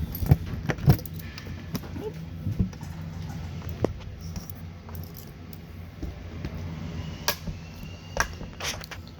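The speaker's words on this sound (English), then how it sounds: "That's going to be your keys to these compartment doors." Keys for the compartment doors of a 2015 Heartland Trail Runner travel trailer jangle and clink in a series of sharp metallic rattles and taps, close by, with quiet pauses between bursts.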